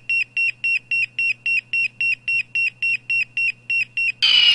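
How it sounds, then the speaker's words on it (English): An alarm clock goes off loud and close, with a run of about thirteen evenly spaced electronic beeps. It ends in a sustained, harsher electronic blast. "the alarm should be going off any second now"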